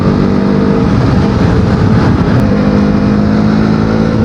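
A motorcycle rides along a smooth asphalt road, with a loud steady engine drone and rushing wind noise holding constant throughout.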